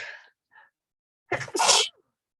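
A single loud sneeze, preceded by a short sharp intake of breath, near and alone in a quiet room.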